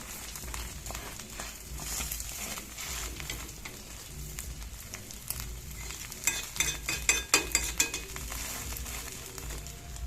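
An egg omelette with roti fries in a pan, a close steady sizzle with scraping and stirring of a utensil against the pan, and a burst of sharper clinks and scrapes near the end.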